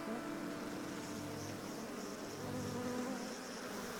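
Bees swarm around beehives in a steady, dense buzz that holds evenly throughout, close and continuous with no voices.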